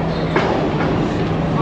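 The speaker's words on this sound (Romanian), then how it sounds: "Vine trenul să înceapă marea bătălie." A train arriving at a station in Sri Lanka, a steady low rumble with faint clattering that holds at a constant loudness, close by, mixed with crowd noise on the platform.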